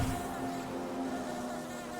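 Steady insect-like buzzing from bees in the Hollow Knight video game, a continuous droning hum with a steady pitch that holds level for the full two seconds without pause.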